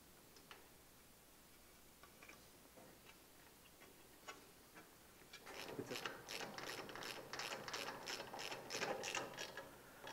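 Ratchet wrench snugging down bolts on a Backwater SWOMP Lite mud motor glider kit during assembly, a close run of rapid, evenly spaced metallic clicks growing louder midway, faint quiet ticks before it, no talk.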